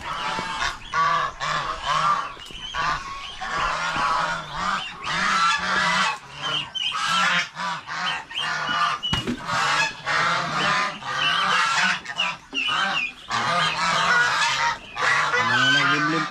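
Farm fowl, ducks among them, honking and squawking almost continuously in loud overlapping calls close by. The calls sound goose-like, with no talk.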